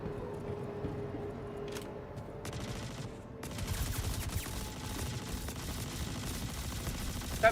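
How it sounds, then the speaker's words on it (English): Rapid gunfire in the video game Star Citizen rattles in long, dense bursts at moderate loudness, growing heavier partway through and continuing almost without pause. "Stop shooting me, guys!"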